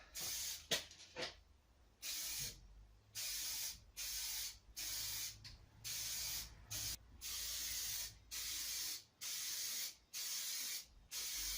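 Khaki camouflage paint is sprayed for a second coat on a CZ Air Arms S200 air rifle in short, repeated hissing bursts with brief pauses between them, close and even in level, with a few light clicks near the start.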